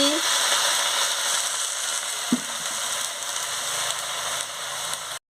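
Susni greens frying in a very hot pan after a splash of water, giving a steady, loud broadband sizzle that holds for about five seconds, with a brief utensil tap midway and a faint voice at the start.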